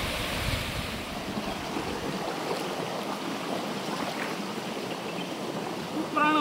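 Steady rushing water pours and churns in a pool on Sathuragiri mountain, constant and close with some wind buffeting, continuing without a break.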